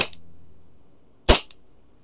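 A KJW airsoft pistol, a KP-19 or KP-06 on test, fires a single sharp shot that cracks loud and close amid quiet, with a faint earlier snap at the start and a small click just after the shot.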